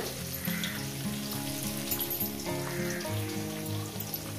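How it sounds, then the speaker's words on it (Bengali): Onions fry in a pan for a spicy parshe fish curry, making a continuous crackling sizzle that sits close and fairly quiet under soft background music, with no voices. "আগে পেঁয়াজটাকে 2 মিনিট আমি ভেজে নেব।"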